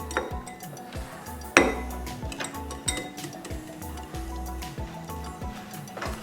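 Powdered sugar being stirred into beaten eggs in a bowl for egg pudding, with rhythmic clinking and scraping of a utensil against the bowl, close and steady, without speech.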